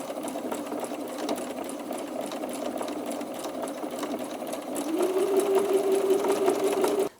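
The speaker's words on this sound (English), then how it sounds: "just using the longest stitch we actually have on the sewing machine" Sewing machine running a long straight stitch on fabric for a teddy bear outfit, a steady close mechanical whir that rises slightly in pitch and speed partway through, then cuts off abruptly.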